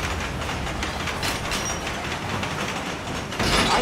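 Train running in the Lego Marvel Superheroes 2 video game: a steady broadband rumble with faint rhythmic wheel clatter, fairly loud and continuous, swelling slightly near the end.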